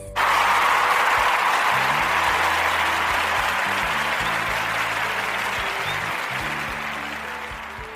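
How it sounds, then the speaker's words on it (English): An audience at an evening gathering breaks into sustained applause that starts abruptly, stays loud and dense for several seconds, then gradually fades toward the end, with faint low voices underneath. "with a round of applause"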